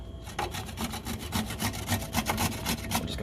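Vegetables are grated on the large holes of a box grater for egg roll filling, making a steady series of close, rasping scrapes in a quick regular rhythm with no talk.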